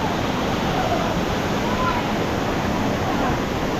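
Steady, loud rushing roar of a waterfall at a lovely falls, broadband and unbroken throughout, with no clear voices over the water.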